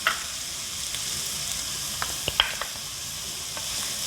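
Chopped onion, ginger and garlic sizzle in a clay pot, a quiet steady hiss broken by a few light stirring knocks.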